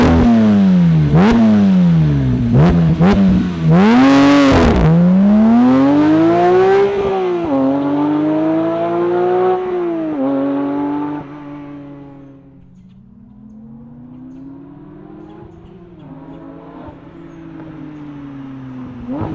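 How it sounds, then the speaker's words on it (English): A 2022 Porsche 911 GT3 sports car engine fires up and revs hard, with several sharp rising and falling revs before settling into a loud, rough idle that later drops lower, heard up close with no talking. "let's fire up this GT3 and hear what it sounds like"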